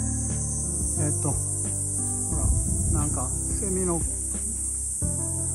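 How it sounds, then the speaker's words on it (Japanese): Summer cicadas drone in a constant high-pitched buzz outdoors at a rural tiny house porch, steady throughout, while someone speaks briefly and other clattering sounds occur. "セミの声がします。"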